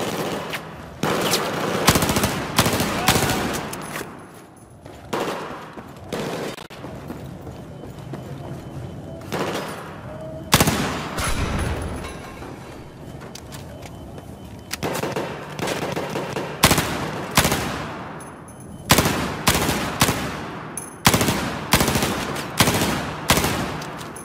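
Rapid bursts of automatic gunfire in the video game Battlefield 4, played on Xbox One, come in loud repeated volleys separated by brief pauses, with faint voices mixed in.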